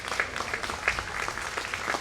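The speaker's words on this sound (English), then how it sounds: "It's a nice hand from the crowd." Crowd applause in a soccer arena at the 2014 PDL championship game, Kitsap Pumas versus Michigan Bucks, a steady patter of clapping from a large crowd, heard at a moderate distance and fairly soft.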